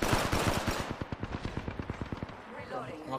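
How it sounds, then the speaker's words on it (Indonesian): Gunfire echoes from a distance in a video game as a faint, quick string of evenly spaced shots that trails off after a few seconds. "Ada nembakin dari jauh."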